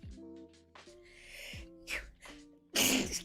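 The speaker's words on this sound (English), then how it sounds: "You always sneeze like that?" A single loud, sharp sneeze bursts out near the end, following a stretch of music and brief vocal sounds.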